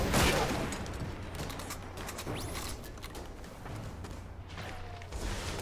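Sharp shots from the Vision of Confluence scout rifle in Destiny crack out in a quick irregular series over a low humming backdrop, fairly loud and close, with a few mechanical clicks between them.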